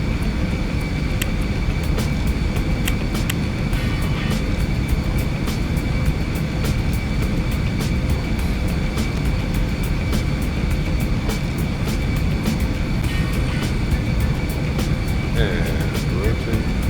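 An airliner, a Boeing 757-200 in X-Plane 11, roaring down a bumpy runway on its takeoff roll, with steady loud engine noise and repeated sharp thumps and rattles from the uneven surface throughout.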